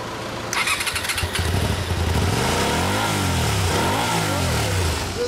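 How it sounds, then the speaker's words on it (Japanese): A Honda VT250 Spada motorcycle engine starts up and is revved several times, close and loud, with rising and falling swells. "エンジン音聞かせてもらえるかな。"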